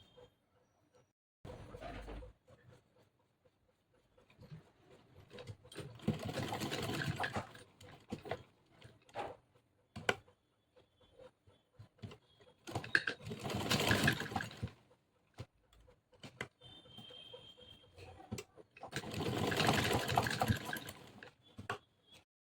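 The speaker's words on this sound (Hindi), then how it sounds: "फिर यहाँ से भी मैं इसको सिलाई लगा लूँगी" A sewing machine stitches a loose pajama in three bursts of rapid, buzzing needle strokes, close and fairly quiet, with handling noises and pauses between runs.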